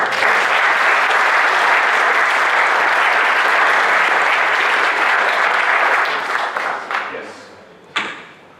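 Debate audience at an engineering society event applauds the winning negative team, a dense, loud sustained round of clapping that gradually thins and fades, ending with a few scattered claps.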